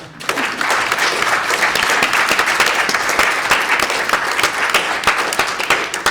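Sustained applause from a conference audience after a morning panel, dense steady clapping that starts abruptly and holds loud and close throughout.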